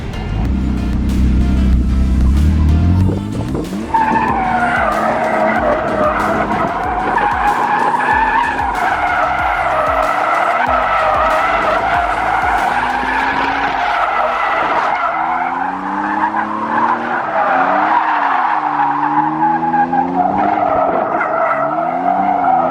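A race car in a video game skids with traction control switched off, tires squealing in long wavering screeches over a loud revving engine, continuous and close, with no one talking.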